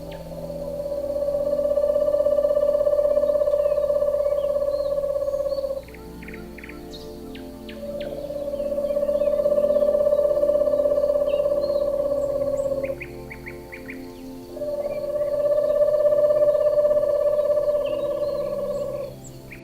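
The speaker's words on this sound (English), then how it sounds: "Owl" An owl calls with three long, sustained tonal cries, each lasting several seconds with short gaps between, loud and close with nothing else around.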